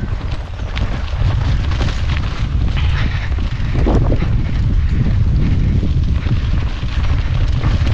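Strong wind buffets a microphone outdoors on a club cycle ride along a rough trail by a river, a loud continuous roar with gusty surges and no talking.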